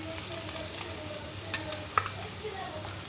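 Chopped onion frying over a medium flame in a pan for a potato curry, giving a steady low sizzle with occasional soft stirring scrapes and a couple of light clinks.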